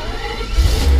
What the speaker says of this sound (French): Un dernier démarrage pour la route.